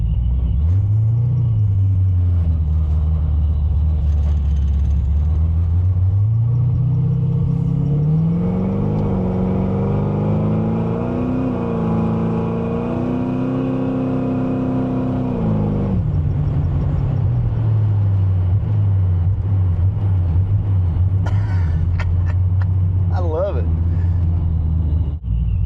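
A car engine rumbles close by, rising in pitch as it revs, then dropping back to a deep, steady burble when the throttle eases off.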